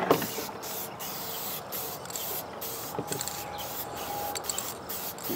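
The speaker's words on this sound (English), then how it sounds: "Get your shellac here. Spray paint. Just hit it." Shellac spray paint hisses from an aerosol can onto a shed antler in short bursts, close and fairly quiet, with brief pauses between passes.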